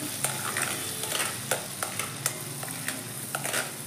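Ground masala paste fries in hot oil for masala matar paneer, sizzling steadily under repeated sharp scrapes of a spoon stirring at a quick, uneven rhythm, close and clear with no voices.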